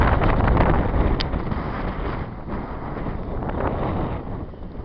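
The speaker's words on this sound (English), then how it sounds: "The heavy wind." Heavy wind roars across the microphone in a steady, loud rush, rumbling and buffeting with slight surges and no voices.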